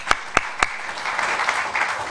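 Applause at a customs closing ceremony for the acting comptroller: three sharp, close claps open it, then a wider round of clapping from the gathered participants continues steadily.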